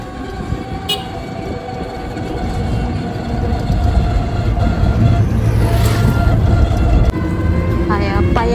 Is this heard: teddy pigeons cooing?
no